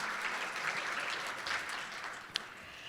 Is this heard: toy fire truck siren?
no